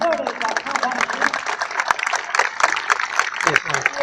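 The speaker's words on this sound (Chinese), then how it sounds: "各位来宾，热烈掌声欢迎！" A large crowd at an outdoor religious blessing ceremony in a plaza claps steadily to welcome officials and guests, dense continuous applause with voices mixed in.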